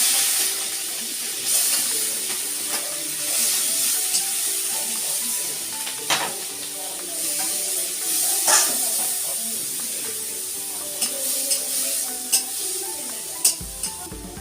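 Crabs frying in a generous amount of hot oil with chopped tomato and ground onion, ginger and garlic paste, a continuous bright sizzle and hiss with occasional stirring scrapes, close and steady throughout.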